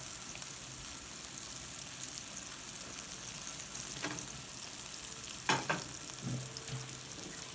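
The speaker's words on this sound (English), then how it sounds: "Now I didn't put too much oil in there. I just wanted them to fry." Smelts frying in a small amount of oil in a pan, a steady broadband sizzle running throughout with a few brief clinks and stirring taps near the end; no talking.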